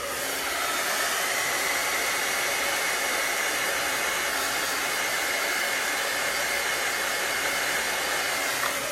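A hair dryer blows steadily close up, drying chalk paste on a nautical chalkboard craft, a loud continuous whooshing hiss that holds unchanged throughout with no talking.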